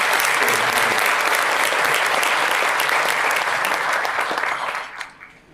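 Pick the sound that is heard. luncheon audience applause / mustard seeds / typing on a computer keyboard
luncheon audience applause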